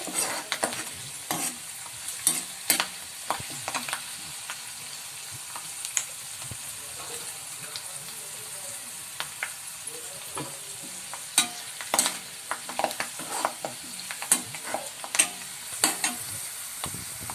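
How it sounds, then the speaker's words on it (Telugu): A spoon stirs turmeric into pulihora mixture frying in a pan, bringing repeated scraping strokes over a soft, constant sizzle, close and alone without speech. "పసుపు వేసుకుని బాగా కలుపుకోవాలి"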